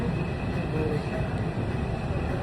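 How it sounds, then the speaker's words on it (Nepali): A steady low rumble of a train in motion in South Korea fills the clip, constant and unbroken, like sitting inside a moving carriage. "अब रेलमा बसेर गइन्छ"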